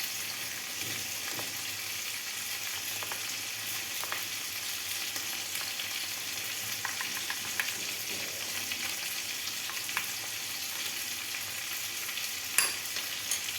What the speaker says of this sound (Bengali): মশলা কষানো হয়ে গেছে, মশলা থেকে তেল ছেড়ে দিয়েছে।